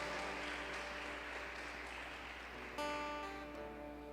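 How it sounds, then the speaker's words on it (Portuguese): Church congregation applause, a faint, steady wash of clapping that holds for several seconds and swells briefly near the end. "dê um aplauso a Jesus forte nesta noite"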